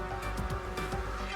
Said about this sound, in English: If you hear every car passing by or conversations outside your home